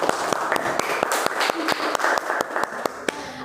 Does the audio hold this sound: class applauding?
yes